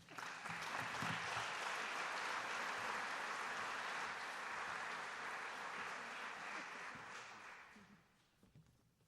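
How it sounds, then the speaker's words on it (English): Full-room applause at the 2017 Indy's Best and Brightest presentation, a thick steady wash of clapping that holds strong for most of its length before tapering off near the end. "please help me give a big round of applause"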